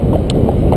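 A horse's hooves clip-clop on a busy road, with a few quick, loud, close hoof strikes in under a second.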